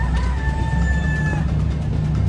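A rooster crows loudly and close in George Town, Cayman Islands, one long drawn-out call over a steady background rumble.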